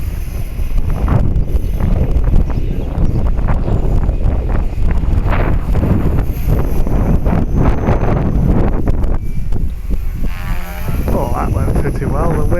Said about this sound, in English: It's making me concentrate, this wind.